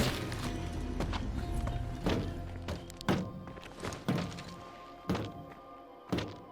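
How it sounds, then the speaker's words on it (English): In a video game, a body snagged on a driving vehicle bangs against it repeatedly: a series of irregular heavy thunks and thuds over an engine hum, several sharp hits spaced about a second apart. "his body gets caught on it, so it starts banging all over the place"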